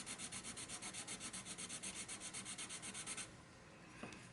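A Luminance white colored pencil rubs back and forth on paper in quick, even scratchy strokes, close and quiet, about twenty rhythmic passes before a brief lighter scraping.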